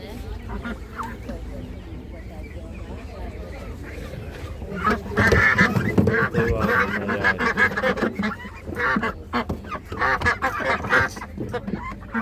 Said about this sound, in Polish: Oj, kaczuszki piękne mamy.